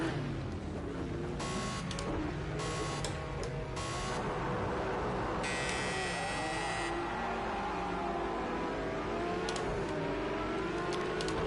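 In a racing video game at Donington, a race car with a short gearbox launches off the line, its engine revving and rising in pitch through the gears, with other engines droning alongside.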